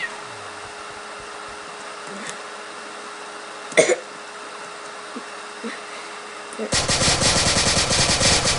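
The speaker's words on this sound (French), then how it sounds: "Après G18. Tire en rafale." A G18 pistol from a video game gun mod fires in a rapid sustained burst near the end, loud and continuous after a quiet stretch broken only by a few faint clicks and thumps.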